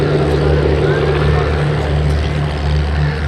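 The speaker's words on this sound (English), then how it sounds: "as she took off, she's a tailwheel aircraft" Avro Anson tailwheel aircraft taking off at an airshow, a loud steady piston-engine drone with a low propeller hum and broad rushing noise, continuous and close, with no talking.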